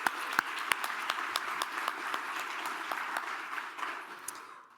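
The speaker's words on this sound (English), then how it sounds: "So give yourselves a round of applause." Scattered applause from a small audience at an education conference keynote, moderately faint, with individual claps standing out and slowly thinning toward the end.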